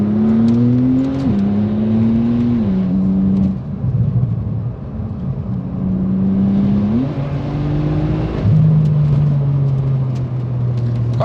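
Porsche 991 Turbo fitted with Ohlins Road & Track coilovers driven hard through a series of turns, its engine note rising and falling steadily as it accelerates and lifts between corners, heard up close and loud with no talking.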